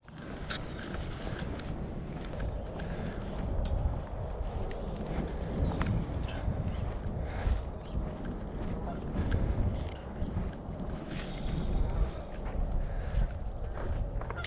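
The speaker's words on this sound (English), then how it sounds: "It's already starting to get breezy" Outdoor breeze on open water while fishing, a steady broad rush with microphone buffeting that swells and eases in gusts throughout, with a few faint knocks and steps nearby.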